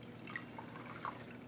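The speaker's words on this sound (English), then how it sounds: "50 mils of number 1, and I'm going to add it to volumetric flask" Liquid solution poured into a volumetric flask gives quiet trickling and a few soft, bright drips and splashes against glass, faint and close.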